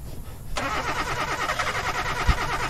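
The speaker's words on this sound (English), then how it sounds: "Get the car started" A car engine cranks and catches in a video game, then settles into a steady mid-pitched idle running loud and continuous to the end, with one brief low thump near the close.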